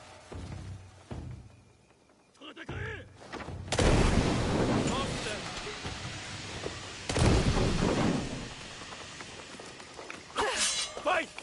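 A smoke bomb goes off in Assassin's Creed Shadows on PS5 amid combat, a loud burst followed by sustained rushing, crackling noise, then a second blast, with game sounds and a voice around it.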